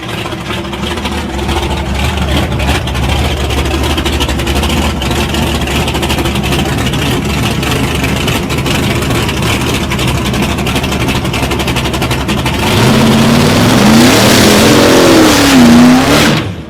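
Drag race cars at a test and tune session at Sunset Strip, a loud continuous engine roar that swells near the end with rising revs as a car launches, heard from trackside with no talk.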